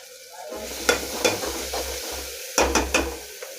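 Stuffed bitter gourd cooking with tomato, potato and spices sizzles steadily in a pan while a spoon scrapes and stirs in several sharp, close strokes.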